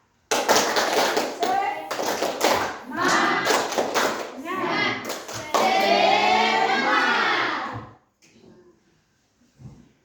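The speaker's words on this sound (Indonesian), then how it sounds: "Kita kasih tepuk semangat" A classroom group performs a rhythmic cheer clap during a coding and AI lesson: bursts of patterned hand claps mixed with loud chanting voices, ending in a long sustained shout before it falls quiet.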